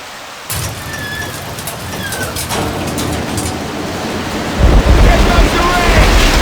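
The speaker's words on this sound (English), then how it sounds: "Here comes the rain!" Rain and thunder in the Halo video game: heavy rain hisses steadily while thunder crackles and rolls, then a louder gust of downpour and rumble swells near the end.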